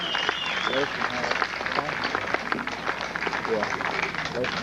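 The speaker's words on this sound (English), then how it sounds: "Give old Tut a nice round of applause over there." A festival audience at a bluegrass show claps for dobro player Tut Taylor, a steady round of applause at moderate loudness with a voice talking over it.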